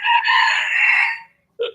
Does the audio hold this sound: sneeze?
no